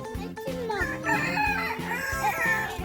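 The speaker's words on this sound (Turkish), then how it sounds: "Horoz yapıyor, bu tavuklar yapıyor." A rooster at a zoo crows loudly and close by, with a strained, wavering call, while hens cluck in a rhythmic pattern underneath.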